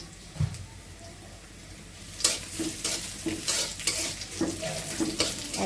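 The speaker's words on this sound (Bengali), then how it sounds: "আর পাঁচফোড়ন দিয়ে দেবো পাঁচফোড়ন দিয়ে দিলাম" Panch phoron spices hit hot oil along with onion and garlic, first as a quiet bubbling, then as a louder crackling sizzle with repeated stirring scrapes of a spoon against the pan.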